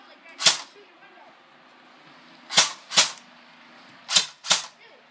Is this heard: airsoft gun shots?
yes